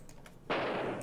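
A single loud gunshot from a revolver in a survival video game, a sharp close blast that rings out and decays over about half a second after a quiet lead-in.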